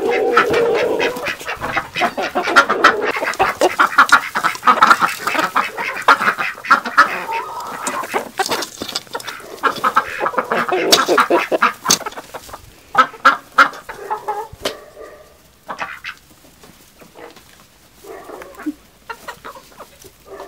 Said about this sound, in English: check on these chickens and ducks.